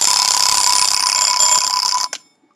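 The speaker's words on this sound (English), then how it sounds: "There's a nice little bell alarm." Bell alarm of a vintage radium alarm clock ringing loud and steady for about two seconds, then cutting off abruptly with a brief clatter before silence.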